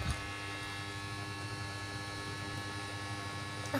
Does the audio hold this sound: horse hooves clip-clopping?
no